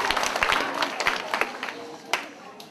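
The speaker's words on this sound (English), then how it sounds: "a big round of applause" School assembly audience applauding two teachers, a fairly faint spread of claps from a crowd with some voices and scattered louder claps.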